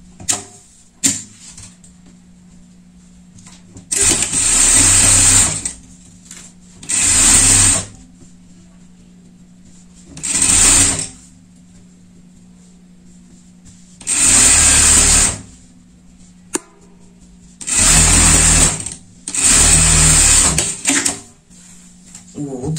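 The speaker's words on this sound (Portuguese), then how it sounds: "Vamos passar uma costura aqui." A sewing machine stitching the hood onto a pet sports jacket, running in about seven whirring bursts of a few seconds each, separated by quiet pauses with faint handling sounds.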